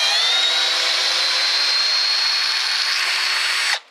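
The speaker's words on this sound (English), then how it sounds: "This is just straight drill." A Black & Decker 20 volt straight drill in first gear backs out a screw, a loud, steady whirring whine held for several seconds before cutting off abruptly.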